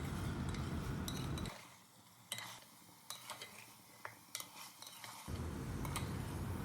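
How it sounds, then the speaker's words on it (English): Mutton pieces fry with ginger garlic paste in a pot for Nalli Nihari, a broad sizzle rising and falling as a spoon stirs with scrapes and clinks against the metal, close and steady without voices. "now again we will fry the mutton along with the ginger garlic paste for another 5 to 6 minutes"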